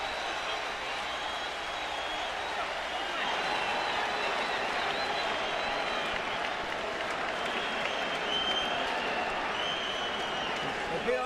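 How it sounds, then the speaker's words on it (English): A boxing crowd applauds and cheers steadily as a round comes to a close, a dense continuous wash of clapping and crowd noise throughout. "the crowd is on its feet again"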